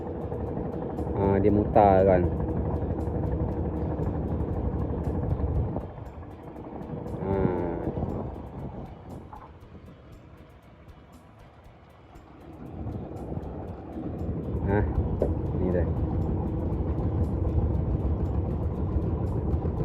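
A boat motor towing a floating fishing platform drones steadily at a distance, its low chugging running under a voice that comes and goes, dipping quiet in the middle.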